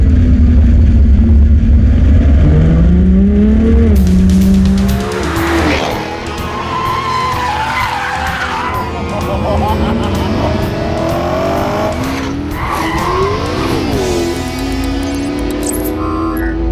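A 2014 Ferrari LaFerrari driven hard on the Fiorano development track, its engine roaring and shifting pitch through acceleration with tire squeal, loud and close, with a narrator's voice over it.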